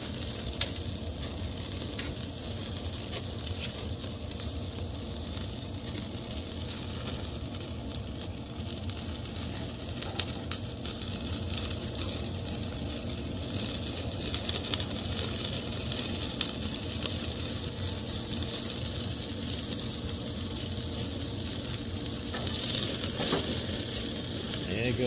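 Fat on a picanha (top sirloin cap) steak searing in a hot pan, a continuous dense sizzle and crackle holding steady for the whole stretch, with faint talk now and then.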